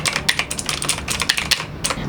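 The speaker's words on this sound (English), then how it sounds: "This one is a blue switch mechanical keyboard." Fast typing on a Redragon K579 mechanical keyboard with blue switches, a close, busy stream of sharp clicky keystrokes in an uneven rhythm with no one talking.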